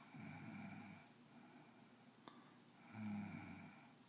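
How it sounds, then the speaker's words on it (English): A cougar snoring in its sleep, with two rough, rumbling snore cycles at the start and end and a quieter breath between them, fairly close and with no talk. "There is no telling when the snoring will end."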